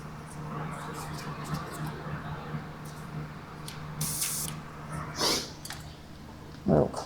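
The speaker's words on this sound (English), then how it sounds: "Just cleaning off the tip of the airbrush because it got all gunky." Airbrush spraying in short bursts while its clogged, gunky tip is cleaned in a prop workshop, giving a few soft hissing puffs over a low steady hum, with a louder burst near the end.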